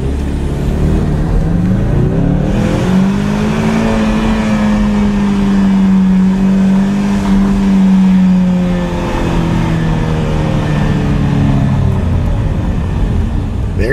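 A 2015 Ford Mustang EcoBoost engine accelerates hard from inside the car, a loud, steady drone rising in pitch through the gears, with a brief dip at a shift and no talking.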